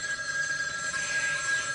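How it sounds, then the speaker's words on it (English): A telephone rings with a steady, high electronic trill that runs continuously at moderate volume without any voice over it. "So why don't we go over to the projector after I answer that phone?"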